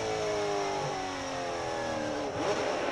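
Sports sedan race cars accelerate off the start of a Sydney Motorsport Park race, engines revving steadily and loud, then briefly dipping around a gear change.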